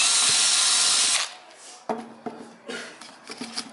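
A power drill bores a hole with a 3/8 inch bit after a pilot hole, whining loudly and close for about a second before stopping, followed by several sharp clunks and taps.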